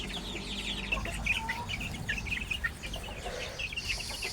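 Native chickens in a backyard brooder pen cluck and peep in scattered short calls, fairly close but soft over a low background hum.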